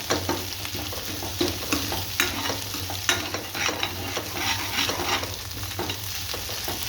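Egg bhurji being stirred continuously in a frying pan, a steady sizzle under repeated scraping and clinking strokes of a utensil, close and fairly loud throughout with no talking.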